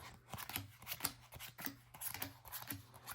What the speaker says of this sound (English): I'm going to go ahead and do the pile because I love pile shuffling